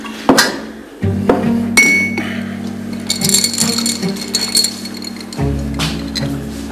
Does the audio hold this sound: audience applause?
no